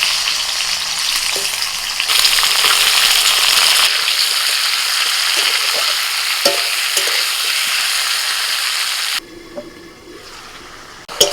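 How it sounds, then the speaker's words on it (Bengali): Thin-sliced pumpkin fries in hot mustard oil in a wok, giving a loud, steady sizzle with occasional stirring scrapes. The hiss drops noticeably quieter near the end, and no one speaks. "কড়াইতে একটু সর্ষের তেল দিয়ে তেলটা গরম হলে এখন দিয়ে দিচ্ছি আমি কুমড়ো"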